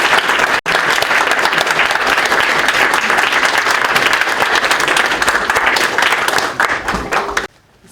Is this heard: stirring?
no